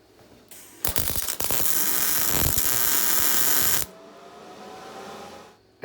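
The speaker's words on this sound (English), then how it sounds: "Second, I'll put a little weld in here." Tack weld on a metal storage rack: a loud, steady sizzling buzz lasting about three seconds, starting with a few crackling pops and ending abruptly, close by, followed by quiet.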